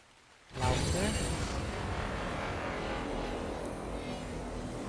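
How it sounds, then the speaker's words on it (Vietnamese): Rain suddenly begins in the video game Ark Survival Evolved, a loud, hissing downpour that starts abruptly and then holds steady and heavy to the end. "Mưa rồi, mưa rồi, mưa rồi."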